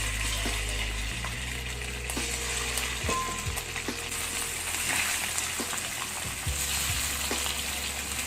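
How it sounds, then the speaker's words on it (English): Chicken wings frying in hot oil in a big wok, a continuous loud sizzle with occasional clinks and scrapes as pieces are added one by one. "So let's start frying our wings one by one."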